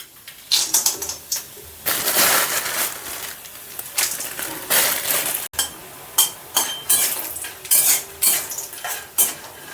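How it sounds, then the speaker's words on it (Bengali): Bori lentil dumplings fry in mustard oil in a wok with kalo jeere and dried red chillies, loud clattering bursts from a spatula scraping and stirring over a constant hissing sizzle, close by. "বড়িটা খুব ভালো করে ভেজে নেবো লাল লাল করে"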